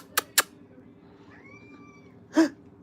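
A cat calls a few times indoors: two short sharp sounds near the start, a soft drawn-out tonal meow in the middle, then a louder, fuller meow near the end, with no talk.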